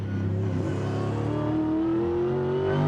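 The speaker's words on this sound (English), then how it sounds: "Let's have a listen to the throttle application in this car." A V8 Supercar engine drones loudly and steadily under throttle at Eastern Creek, 2002, its pitch slowly rising as it accelerates, heard close up with no voices.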